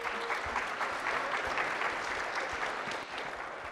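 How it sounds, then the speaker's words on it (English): Warm applause from an audience at a business presentation event welcoming the next speaker: continuous, even clapping from a crowd, fairly distant and steady throughout. "Give her a warm round of applause."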